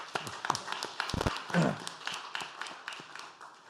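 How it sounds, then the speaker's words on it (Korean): A church congregation at a Sunday service claps for a new student pianist, scattered close taps and claps in an irregular patter, moderately loud and with no one speaking. "여러분들 한번 박수 한번 보내주시면 좋겠습니다"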